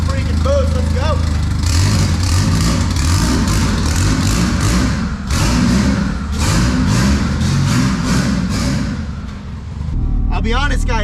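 A Honda car fitted with a cheap turbo revs hard, and the loud, close engine surges and drops several times. Voices talk over the engine sound.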